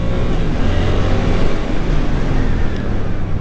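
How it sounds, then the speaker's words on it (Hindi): A Suzuki GSX-8S sport naked motorcycle on a test ride, its engine giving a steady, loud broadband drone with wind rush and road noise throughout, no voices heard. "अब इसकी जो है टेस्ट राइड लेते हैं, चला के देखते हैं चलाने में कैसी है।"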